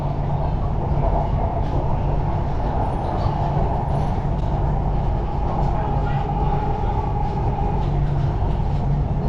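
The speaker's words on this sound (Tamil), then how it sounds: "நல்ல வேகத்தில் போகுது மெட்ரோ" A Chennai metro train hums along at speed on an elevated section, a constant loud rumble and rattle heard from inside the car, with faint voices underneath.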